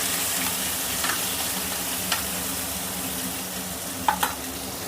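Garlic and curry leaves frying in a pan for prawn masala curry, an even close sizzle with a few sharp spoon or stirring clicks and no talking.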